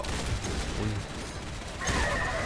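Gunfire in the online shooter game Typical Colors 2 comes as dense, rapid bursts over a busy, loud game soundscape, with a sharper cluster of shots near the end.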